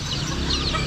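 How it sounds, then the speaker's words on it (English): A guinea fowl calls at a Bali market, giving a loud, close, harsh and rapid cackling for about a second, heard on its own. "What is that chicken? That's a guinea fowl, that one."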